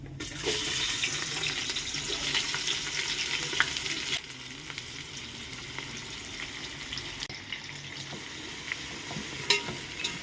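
Ginger garlic paste drops into hot oil for a mutton biryani and fries with a loud, dense sizzle that continues steadily throughout, easing slightly after a few seconds, with occasional stirring clinks.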